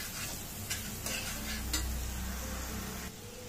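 A spoon stirs spiced fish curry masala in a pan, with soft scraping strokes and light clinks over a low, steady sizzle, close and fairly quiet throughout.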